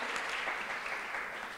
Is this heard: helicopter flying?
no